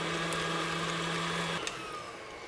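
An electric stand mixer beating chocolate chip cookie dough, a steady whirring motor hum with a low drone that cuts off partway through, then a quieter lingering whir.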